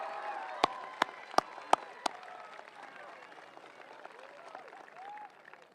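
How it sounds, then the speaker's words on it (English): Scattered applause from an audience at a high school graduation ceremony, with a few sharp, close hand claps at the start, fading into a soft murmur of crowd noise. "Let's give them a big round of applause for their hard work and achievement."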